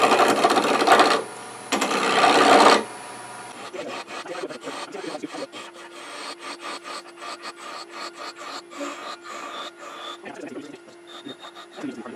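A bird's beak being turned on a wood lathe. Loud bursts of abrasive rubbing give way to a fast run of rhythmic tapping and cutting chatter over a faint motor whine, close by.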